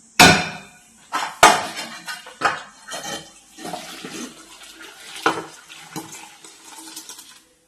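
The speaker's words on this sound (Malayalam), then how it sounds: "അങ്ങനെ സേമിയ ഇവിടെ വെന്ത് വന്നിട്ടുണ്ട്. അത് നമുക്ക് ഊറ്റിയെടുക്കാം." Boiled semiya vermicelli being drained in a strainer in a kitchen, sharp metallic clanks and knocks followed by splashing, pouring water, loud and close, with no voices.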